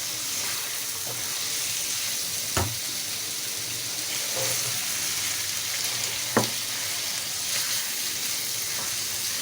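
Masala goat liver fries in a pan with a loud, continuous sizzle up close, with a couple of sharp knocks from a spoon against the pan and occasional soft stirring.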